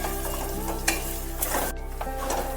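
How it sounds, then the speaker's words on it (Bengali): Six sliced onions fry in hot oil in a pan for a poppy-seed chicken dish, with a steady, close sizzle running throughout and occasional clinks and scrapes of stirring on top. "এখানে পেঁয়াজটা তেলের মধ্যে ভালো করে একটু ভাজতে হবে।"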